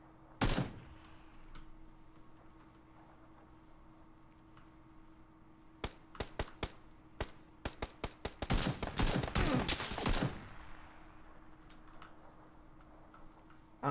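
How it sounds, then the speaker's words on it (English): Video game gunfire crackles as a few scattered shots, then a rapid burst of sharp reports around the middle of the clip, set against a quiet, steady game backdrop with no talk. "I don't actually know where I just got shot at from."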